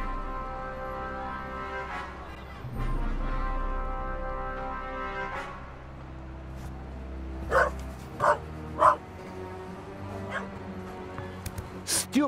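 A small dog in The Raven video game barks and yips in a few quick bursts over a low hum of game ambience and music.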